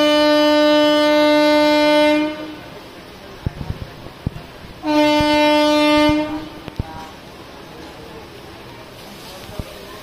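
Two long, loud train horn blasts sound near Prasadpur railway station, separated by a quieter stretch with sharp clanks and rumble of rolling stock.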